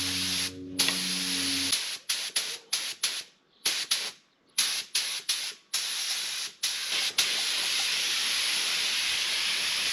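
A spray can lays a final coat of yellow paint on Mercedes-Benz W205 C450 AMG brake calipers, in a string of short, close hissing bursts and then one long continuous spray.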